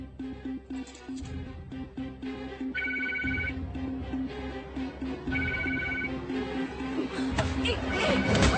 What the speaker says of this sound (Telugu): ఈ రమ్య ఎందుకు ఫోన్ తీయట్లేదు?